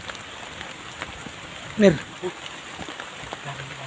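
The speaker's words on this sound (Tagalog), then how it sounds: "Kasi malakas po talaga ang ulan." Heavy rain pours down as a steady, even hiss of drops on surfaces, with one brief nearby voice breaking in partway through.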